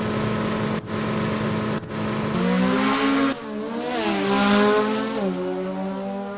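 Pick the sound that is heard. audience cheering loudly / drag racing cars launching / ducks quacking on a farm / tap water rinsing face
drag racing cars launching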